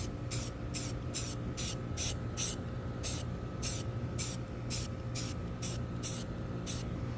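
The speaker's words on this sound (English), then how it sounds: "first start out with some flat black primer" Rust-Oleum flat black primer hisses from a spray can in about a dozen short, evenly spaced bursts, close up and alone.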